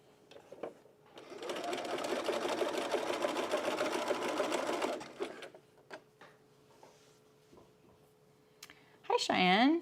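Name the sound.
sewing machine stitching a bralette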